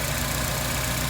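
Acura TSX engine idling after a fuel rail installation, a steady, even rumble that holds unchanged throughout with no talk over it.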